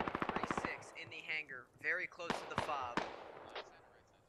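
Gunfire in the tactical shooter game Squad: a fast run of sharp rifle shots at the start, then scattered single cracks further on, mixed with voices talking over radio chatter.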